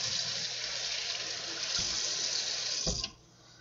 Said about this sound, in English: So first, we're going to wash our celery.